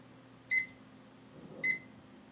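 A kitchen timer gives two short electronic beeps about a second apart while being set for two minutes, clear and close in a quiet kitchen with a faint background hum.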